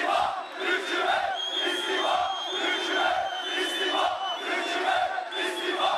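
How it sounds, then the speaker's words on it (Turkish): Thousands of protesters gathered outside an AKP district building in Yeşilsu shout in loud, rhythmic chanted bursts, with a thin whistle tone running through the continuous crowd roar. "Yeşilsu'da toplanan binlerce yurttaş ıslık ve alkışlarla AKP'ye karşı sesini yükseltti."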